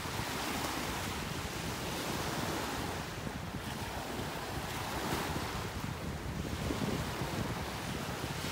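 Ocean surf washes steadily onto a beach in North Naples, Florida, mixed with constant wind buffeting the microphone, a continuous broadband roar with gentle swells and no speech.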